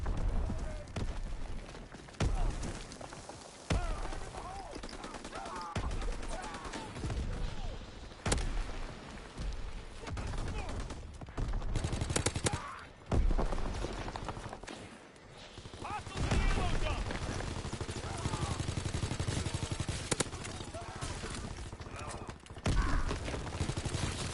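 A BAR rifle fires repeatedly in Call of Duty WW2 on the Shipment map, sharp loud shots and bursts scattered throughout amid game noise, with a person talking over it.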